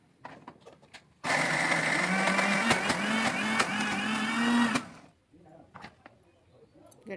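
A mixer grinder whirs loudly for several seconds, grinding a thick ginger garlic paste loosened with oil, starting abruptly and cutting off, with quieter handling noises before and after.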